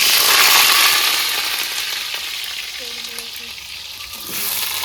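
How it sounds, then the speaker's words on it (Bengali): Potato pieces fry in hot mustard oil in a kadai, a loud close sizzle that gradually softens, with a few faint clinks of a utensil near the end. "তেলটা গরম হয়ে গেছে, আলুটা আমি ভেজে নেবো।"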